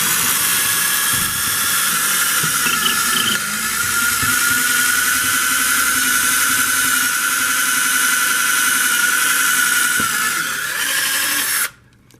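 A power drill whines loudly and steadily for about eleven seconds as it bores through wood, then abruptly stops.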